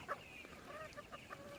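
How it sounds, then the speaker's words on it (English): Meat chickens on a farm clucking softly at feeding time, a few short calls and murmurs at a steady low level with no one talking. "Let's feed these meat chickens."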